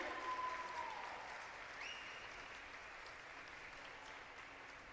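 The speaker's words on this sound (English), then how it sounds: "Please give a round of applause for Megan Decker." A round of applause from a seated crowd at a high school volleyball senior-night ceremony, steady clapping that starts fairly strong and holds at an even level for several seconds, with no voices.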